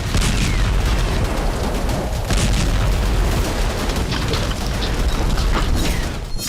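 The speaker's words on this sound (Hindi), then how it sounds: "धमाकों के बाद प्रचंड अग्नि धधक उठी।" Dense, continuous roar of bombing explosions in Homs, Syria, with deep rumbling and crackling as fires blaze after the blasts. Loud and sustained throughout, with no voices.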